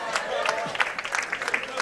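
A church audience claps at a sermon, a quick scatter of many hands clapping at moderate distance with crowd voices mixed in.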